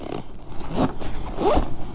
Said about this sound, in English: We're gonna zip this up.